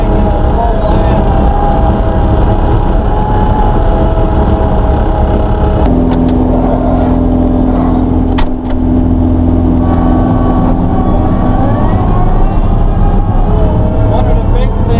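A 2019 Gehl RT215 skid steer running at full throttle, its close engine roaring loud and steady throughout, with a slight shift in tone partway through.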